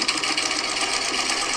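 A sewing machine runs with a steady, fairly loud mechanical whir and a rapid, even clatter that holds constant throughout.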